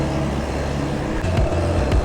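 Trucks passing on a road make a continuous heavy rumble of traffic, close and loud, with a couple of sharper thumps as vehicles roll by.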